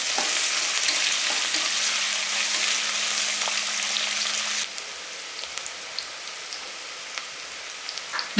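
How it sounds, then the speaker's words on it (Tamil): Onions sautéing in hot oil for mutton biryani give a steady, close sizzle and crackle, loud at first and then settling to a quieter hiss with scattered pops. No one speaks. "இப்போ வெங்காயம் நல்லா பொன்னிறமா வதங்கி வரணும்."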